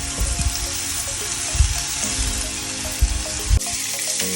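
Onions fry in a hot pan with a steady, close sizzle and a few soft thumps and stirring bumps as the pieces settle.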